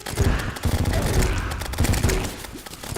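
Rapid SMG gunfire in a modded Terraria-style video game, dense bursts of overlapping shots that stay loud and fairly continuous across the moment, no speech over it.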